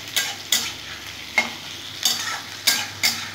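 Onions fry and get stirred in a pan on a home stove, with a steady sizzle broken by several sharp scraping stirs at irregular intervals, close and fairly loud, no voices.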